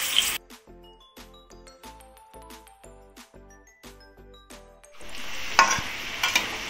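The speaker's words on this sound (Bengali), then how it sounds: "এবার আলুগুলো আমি ভেজে নেব" Potatoes fry in fish oil: a run of bright metallic clinks and taps comes first, then a loud sizzling hiss bursts up and carries on, close by.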